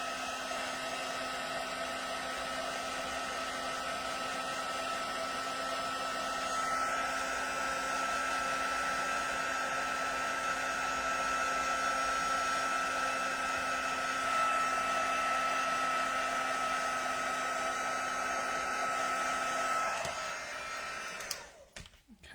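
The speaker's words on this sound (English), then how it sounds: "I'm just going to give this another little heat." Heat tool blowing steadily to melt white embossing powder on a stamped card, a continuous loud whirring hiss held for about twenty seconds before it switches off at the end.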